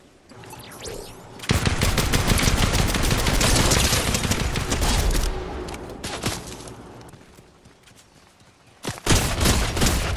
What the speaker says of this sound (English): Who's shooting at top of that tower?